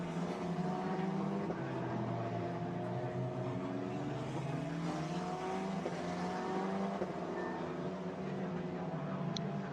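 A Formula Renault Eurocup race car laps Magny-Cours in qualifying. Its engine note rises and falls at moderate distance, with overlapping whines sweeping through gear changes and nothing else standing out.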